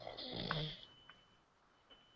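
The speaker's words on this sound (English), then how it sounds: "Oh, somebody's snoring." A person snores during a debate, one faint, raspy drawn-out breath heard from a distance, followed by quiet small snorts, with no talk over it.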